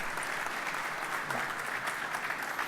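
Applause at a business forum on cloud computing as a Hitachi regional director is welcomed onto a panel, a dense, steady patter of many hands, moderately loud and unbroken throughout.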